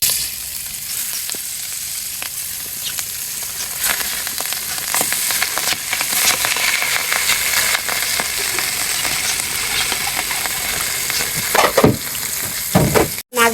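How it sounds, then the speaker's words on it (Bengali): Pieces of hilsa fish fry in hot oil in a wok, a loud, steady, close sizzle with occasional clicks and scrapes from turning them. "মাছগুলো এখন আমি বাইজা নিব"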